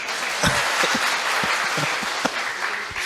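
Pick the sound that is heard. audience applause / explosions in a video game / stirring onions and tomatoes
audience applause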